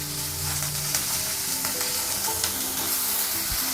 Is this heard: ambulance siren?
no